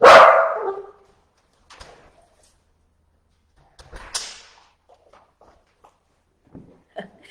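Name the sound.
dog barking as dog walker arrives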